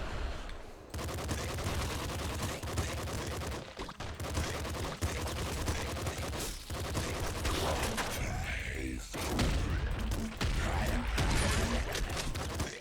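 Dense machine gun bursts and grenade launches in a frantic video game fight, loud and nearly continuous with sharp spikes, under steady game music and effects.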